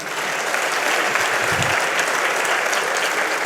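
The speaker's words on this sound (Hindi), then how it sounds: "एक बार जोरदार तालियां हो जाएं" Audience at an Urdu poetry mushaira breaking into loud, sustained applause, a thick continuous roar of many hands clapping at steady volume without speech over it.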